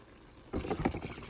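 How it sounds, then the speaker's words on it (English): Water pouring into a pot of rice, black beans and chicken on a stove, a short close splashing gush that starts abruptly and continues briefly. "So next, I am going to turn up the stove and add more water."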